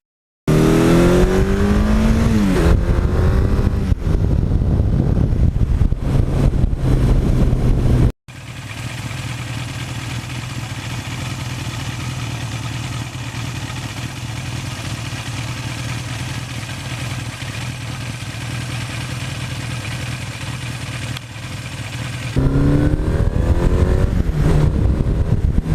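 A 1982 Suzuki GS1100E motorcycle engine runs steadily, close and loud. It revs up at the start and again near the end, with a long stretch of even idle in between and no voices.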